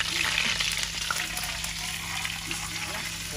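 Chicken leg pieces for bhuna fry in hot oil with a dense, continuous bubbling sizzle, heard close and fairly loud throughout, with a low steady hum in the background.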